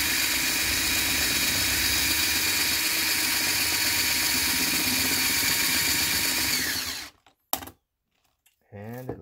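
A steady, whining drill bores into a plastic arcade cabinet protector for several seconds, grinding close up, then cuts out abruptly, followed by a brief clack and a short voice.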